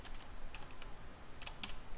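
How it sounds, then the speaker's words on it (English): Computer keyboard typing a domain name during Windows Server setup: quick, light key clicks in an irregular rhythm, close up and fairly quiet over a steady background hiss. "I am going to type my domain name"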